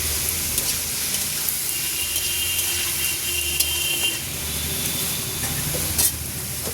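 Salted paneer frying in a pan, a steady loud sizzle and hiss of hot oil with occasional sharper crackles and pops, close up and continuous.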